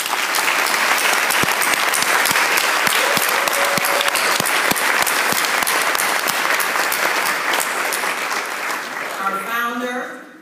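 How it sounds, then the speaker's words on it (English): A long, loud round of applause from an audience at a F.E.W. organisation gathering, dense steady clapping that holds for about ten seconds before tapering off at the end. "Please give a round of applause for all of our past national presidents"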